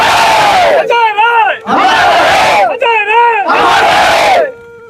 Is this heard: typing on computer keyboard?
no